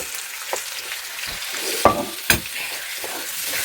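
Shallots and onions stir-fried in a pan with roasted chili paste, a close steady sizzle broken by a few sharp spatula scrapes and knocks, no talking.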